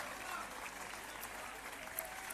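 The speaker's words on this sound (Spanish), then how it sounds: "Un fuerte aplauso para ellas." Audience applause at a presentation of the Mecalia Atlético Guardés women's team for the 2023/24 season, steady and moderately faint, a continuous wash of clapping from a crowd throughout.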